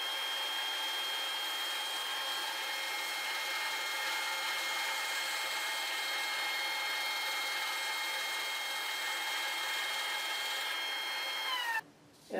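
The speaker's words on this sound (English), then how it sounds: "So I'm going to go ahead and cut this board with the system." A saw cuts through a wood board on an Accu-Slice system with a sacrificial fence, a steady loud whine with a harmonic tone running about twelve seconds, then dropping off abruptly as the cut ends.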